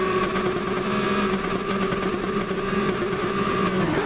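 A racing car engine in a video game building revs on the grid at a race start, a dense, steady mechanical drone with sustained tonal hum, held constant and close throughout.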